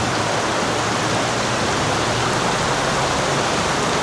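Heavy rain pours at a market while floodwater rushes out of a street drain, a dense, steady roaring wash of water with no break or voices.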